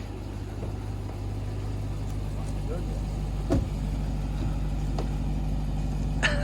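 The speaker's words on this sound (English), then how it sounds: "my driveway sounds like a tank's in there" Low, steady rumble of a 702-horsepower 2021 Ram 1500 TRX truck engine idling nearby, constant throughout with faint background noise and a couple of brief knocks.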